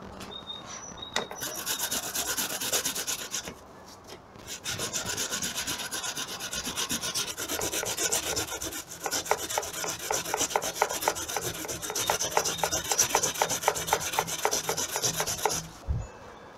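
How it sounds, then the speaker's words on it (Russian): Raw potatoes rasped on a metal grater into onion, rapid rhythmic scraping strokes in bursts with short pauses, close and clear with no voices. "Теперь таким же образом в лук натираем картофель."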